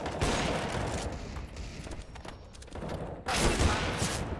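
Video game gunfire in rapid bursts, dense crackling shots filling the clip with a brief lull in the middle before another loud volley.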